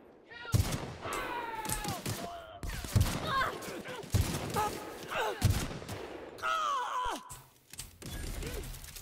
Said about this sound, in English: let's try out this new hunting rifle